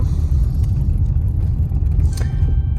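A car drives along a parallel road, heard from inside the cabin as a steady, loud low rumble throughout, with a brief faint rattle near the end.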